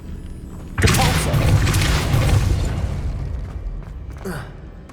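Depulso force-push spell cast in the Hogwarts Legacy video game, a loud booming whoosh that erupts suddenly and rumbles on for a few seconds before fading, with a short faint burst near the end.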